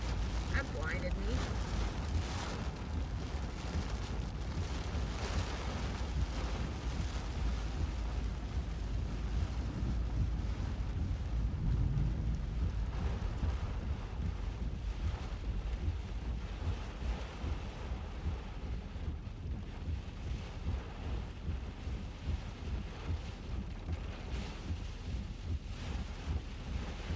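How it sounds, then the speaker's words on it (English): Strong storm winds buffet a microphone during a severe weather outbreak in Earlsville, Iowa, making a steady, loud low roar of rumbling wind noise that continues for the whole span, with a voice speaking faintly in places. "Sounds like they are rocking some strong winds there."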